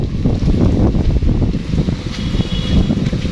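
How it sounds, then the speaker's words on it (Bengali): Loud, constant low rumbling buffets the microphone as strong storm wind blows steadily throughout a rainy morning in Faridpur town, Bangladesh, with no voices heard. "তো অবস্থা খুবই ভয়াবহ বাতাসের অবস্থা আমার সাথে সাথে ধরে নিতে যাচ্ছে"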